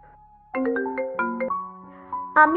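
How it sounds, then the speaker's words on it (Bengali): A phone plays a bright electronic ringtone melody, loud and near, in short rising and falling note bursts after a brief quiet tone. "পরের দিন সকালবেলা লিলি তার মাকে ফোন করলো।"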